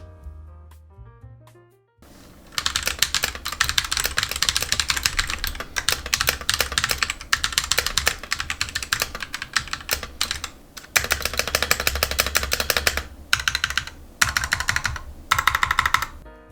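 Brisk, continuous clacking of a Royal Kludge RK68 mechanical keyboard being typed on quickly and close up, after a couple of seconds of quiet tones at the start.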